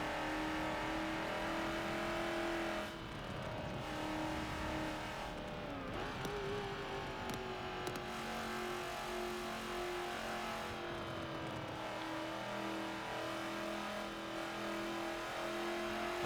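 A Hot Wheels Bone Shaker races in Forza Motorsport 7, its engine droning continuously with shifting pitch as it accelerates and changes gear, heard steadily throughout.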